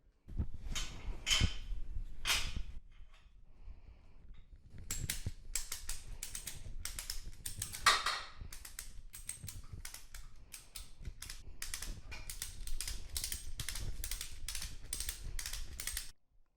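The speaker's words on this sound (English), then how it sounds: "I'm going to just throw a ratchet strap over the top just to hold this thing in place" Ratchet strap being cranked tight over a Ducati Monster S2R 1000 motorcycle held on a rear stand, giving bursts of rapid mechanical clicking that run nearly continuously with brief pauses, close and fairly loud, no talking.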